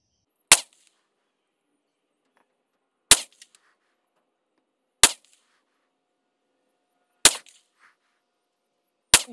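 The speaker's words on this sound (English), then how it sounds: "I'm going to be shooting the left sort of point of the center target." Five sharp, loud pistol shots from a Ruger LC Charger in 5.7x28 fired at targets on an outdoor range, spaced irregularly a couple of seconds apart with quick decays and silence between.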